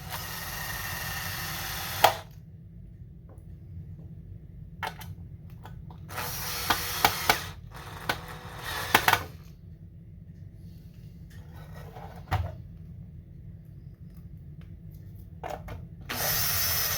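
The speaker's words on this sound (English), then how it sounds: "now we can go ahead and put the screws back in to hold the motherboard in there" Small T9 screws being driven into an Xbox Series S motherboard with a power screwdriver, several short whirring bursts separated by quiet pauses, close and fairly soft.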